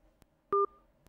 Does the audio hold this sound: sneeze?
no